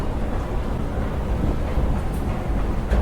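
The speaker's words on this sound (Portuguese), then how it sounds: "Trem não, né? Metrô." A São Paulo metro train running with a steady low rumble and broadband roar, continuous and fairly loud throughout with no talking.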